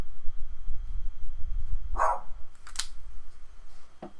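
A puppy at home gives a single sharp bark, followed by a couple of brief clicks and a faint yelp, close by and otherwise quiet with no talk.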